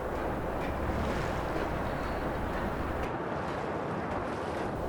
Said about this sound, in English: You can hear the waterfall in the background.